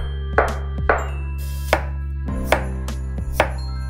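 Peeled potatoes are sliced with a knife into thin 3 mm slices, giving six sharp, evenly spaced chops on a board, close and clear against a steady low hum.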